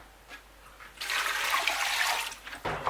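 A brief rush of water poured into a cooking pot for Cameroonian tomato stew, pouring steadily for about a second and a half, fairly close, ending with a clunk.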